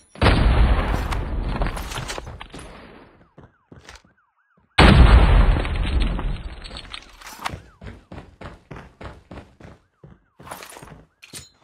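Grenade blasts in the video game Call of Duty Mobile: two loud booming explosions a few seconds apart, each decaying into rumble, followed by scattered sharp gunshot-like cracks.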